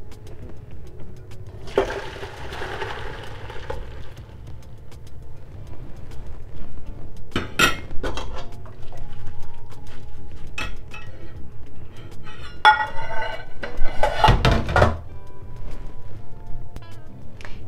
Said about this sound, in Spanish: vamos a colar nuestro caldo